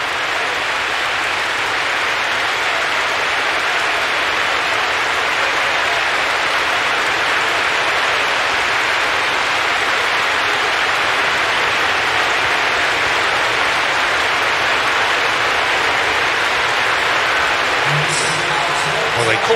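Stadium crowd in eFootball during an Everton vs Liverpool Premier League match, a steady, dense roar with no quieting and a faint change near the end.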